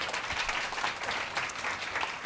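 A conference audience claps for the speakers, dense even applause filling the room at steady volume with no voices over it.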